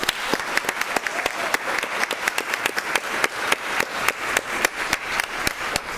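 Applause at a school district board of education meeting for a contest winner, a steady patter of many hands with a few sharp, close claps standing out, continuing evenly throughout.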